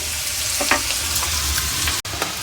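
Ingredients for an egg, garlic and chili dish fry in a pan with a steady sizzle, broken by a few stirring scrapes and one sharp knock near the end.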